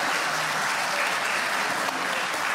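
Applause in a municipal council session for a neighbourhood association of La Reina, a steady, dense wash of clapping from a room full of people, unbroken and fairly loud throughout.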